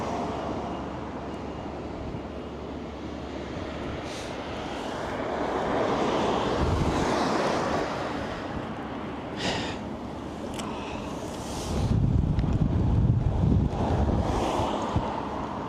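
Strong wind buffets a microphone outdoors near Malmö, Sweden, a steady loud roar with heavier gusts surging midway and again near the end, no talking.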